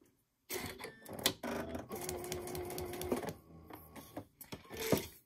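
A sewing machine stitches a tiny paper-pieced heart in short, quick bursts of rapid mechanical clatter separated by brief pauses, close and fairly quiet, with no talking.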